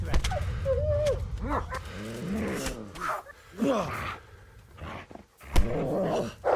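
Several dogs in Kingdom Come: Deliverance growling and snarling in rising and falling bursts, fairly close, with short breaks of quiet between.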